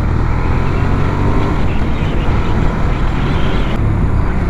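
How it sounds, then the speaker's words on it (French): A Benelli Leoncino 800 motorcycle with a small Benelli exhaust roars steadily while riding, loud and close, its note blended with heavy wind rush throughout. "ce petit pot d'échappement Benelli, il est super"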